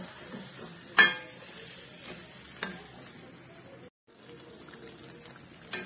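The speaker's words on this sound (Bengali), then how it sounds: "লো ফ্লেমে আমি আরো 5 মিনিট এটাকে কষিয়ে নেব, চাপা দিয়ে কষিয়ে নেব।" Spicy chicken curry cooks covered in a pan over a low gas flame. It gives a faint, quiet sizzle broken by a few sharp clinks and clatters, with a momentary drop to near silence partway through.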